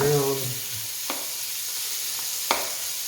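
Meat browns in rendered cooking fat for red beans and rice, a steady sizzle broken by a couple of sharp spoon scrapes as it is stirred, with a brief voice at the very start.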